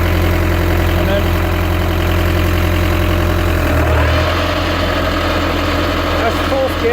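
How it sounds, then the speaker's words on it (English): A car gearbox running noisily in fourth gear overdrive makes a loud, continuous mechanical drone with a low engine hum and rattling vibration, holding steady throughout. "that's fourth gear overdrive."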